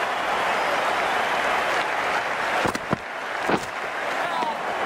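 A cricket crowd in a PS4 video game of India versus New Zealand roars in a steady, dense wash of cheering and applause, loud and continuous, with a few brief sharper bursts partway through.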